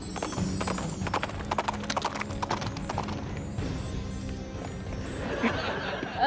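A performer imitates a horse's hooves clip-clopping in a Punjabi comedy skit, quick rhythmic knocks running steadily under audience laughter and background noise.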